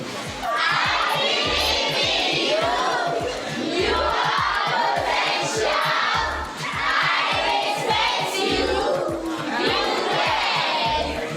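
A crowd of young girls at a community event screams in repeated loud bursts, several waves of shouting with short dips between them, close and energetic.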